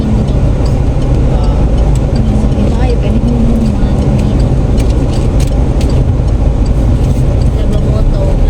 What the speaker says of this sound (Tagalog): Kay grabe talaga ang traffic.